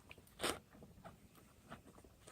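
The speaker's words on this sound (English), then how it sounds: "He's got a funny bite, so his teeth squeak when he chews." A draft horse with an uneven bite chews, its teeth giving soft squeaky, grinding crunches in an irregular rhythm, close and faint, with one sharper burst early on.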